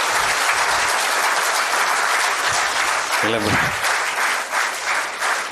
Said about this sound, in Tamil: உற்சாகமாக கைத்தட்டுங்க அப்போ தான் விழா நடக்கிறது சிறப்பாக இருக்கும்